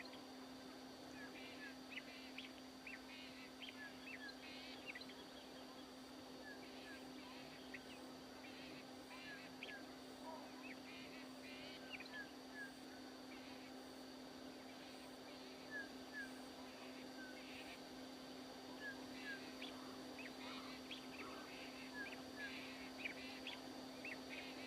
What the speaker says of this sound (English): Birds near and far